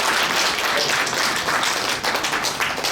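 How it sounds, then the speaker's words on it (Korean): Dense, steady applause from an audience at a New Year's gathering, close and fairly loud, lasting the whole moment. "정말 뜨겁게 박수 한번 부탁드리겠습니다."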